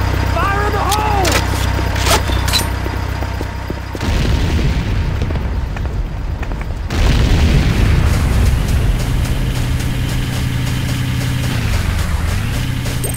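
A C4 charge detonating in Command & Conquer: Renegade, a loud booming blast over idling vehicle engine rumble, with game voice announcements and player chatter around it.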